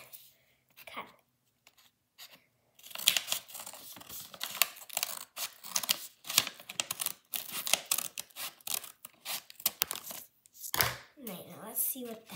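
Scissors snip through a foil unicorn mystery pack in a close, crisp run of crinkling cuts and rustles after a brief quiet start, with soft talk between bursts.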